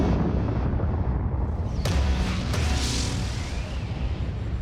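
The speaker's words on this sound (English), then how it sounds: "Explosions boom from the bottom of the crater every 10" Volcanic explosions booming from the bottom of a crater, a deep continuous rumble broken by a couple of sharp distant blasts, with no voices.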